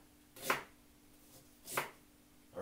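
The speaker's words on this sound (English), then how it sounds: "This is the first thing we're going to do, is cut up my ginger" Ginger is chopped with a knife, giving two distinct sharp cuts about a second apart, then the start of a third, close and clear against a quiet kitchen.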